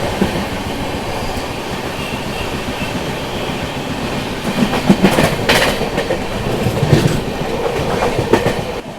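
Bhubaneswar Duronto Express rolling slowly through Naini junction, heard from on board; a continuous rail rumble with clickety-clack joint beats and clattering wheels that grow busier and slightly louder in the second half.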